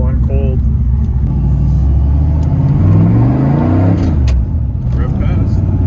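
Fuel-injected V8 in a Pontiac Fiero with a Holley Sniper throttle body revving up past 3,000 rpm and dropping back, a loud, close rising and falling engine note with people talking over it.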